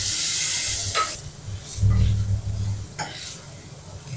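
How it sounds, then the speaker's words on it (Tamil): Tomatoes fry in a pan for mutton thokku, a loud sizzle at first that drops to a quieter bubbling under intermittent stirring and scraping sounds. "தக்காளி நல்லா வதங்கிருச்சு."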